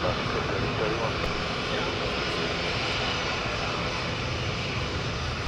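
Aircraft engine roaring at LAX airport, a loud, continuous broadband drone that holds steady throughout, heard up close with no break.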